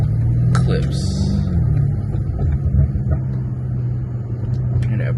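Deep, rumbling exhaust burble from a new BMW M5 Competition at night with the windows down, a steady low engine drone with some revving, heard from the cabin while someone talks.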